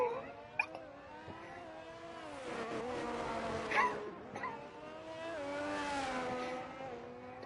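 High-pitched race car engine on a Singapore GP lap in an F1 video game, winding up through gears with sharp pitch drops on downshifts, close and prominent with no talking.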